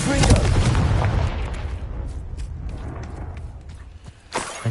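A Confringo fire-blast spell explodes in Hogwarts Legacy. One loud booming burst opens, then fades into a crackling, rumbling tail. Scattered small pops and knocks follow, and a sharper hit comes near the end.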